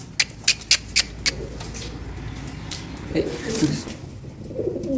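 Fantail pigeons released in a loft coo in low, soft bursts toward the end, after a run of sharp clicks or taps at the start, with steady background hum.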